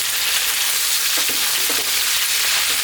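Chicken fries in a pan with garlic and onions over medium heat, giving a loud, steady, dense sizzle with faint stirring knocks underneath, no voices.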